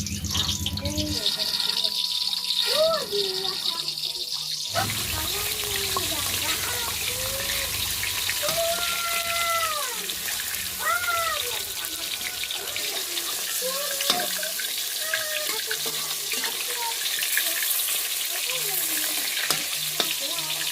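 Tap water runs into a bowl to soak ingredients for nasi akeul. A steady rush swells noticeably after the first few seconds, with a voice talking over it.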